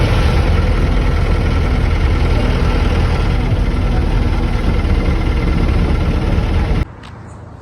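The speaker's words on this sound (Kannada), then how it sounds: "ಒಂದು ತಾಸು ಆದಮೇಲೆ ಈಗ ಗಾಡಿ ಬಂತು" A large vehicle idling after arriving, a loud steady low rumble that runs unbroken until it cuts off abruptly near the end.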